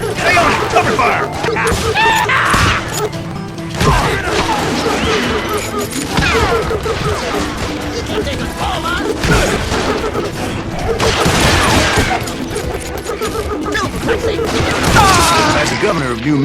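Gunfire in the Western shooter game Call of Juarez Gunslinger: a dense, sustained fusillade of shots and impacts layered with game music and shouted voices, continuous and loud across the whole stretch.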